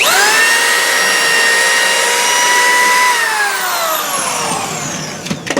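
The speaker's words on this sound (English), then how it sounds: "So I'm going to pre-drill this guy." A power drill whirs loudly at a steady pitch while pre-drilling a board during exterior wall repair, then slows and winds down near the end, followed by a few brief clatters.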